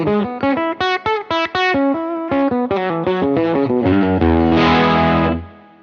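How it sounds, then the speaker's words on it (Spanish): Electric guitar runs through a UAD Enigmatic '82 overdrive amp with a mid boost. A loud, crunchy phrase of staccato notes climbs into a sustained ringing chord that fades out, with no talk. "Así que reconfigure el overdrive y me permite volver a agregar algo de medios."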